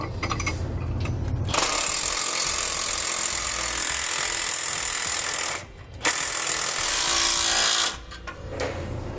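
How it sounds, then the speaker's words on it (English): A power tool drives a 9/16 socket to tighten nuts while helper springs are installed on a 2019 Winnebago. The tool gives a loud, rapid, buzzing rattle in long bursts with brief pauses between them. "I'm going to come back and tighten the nuts up with the 9/16 socket"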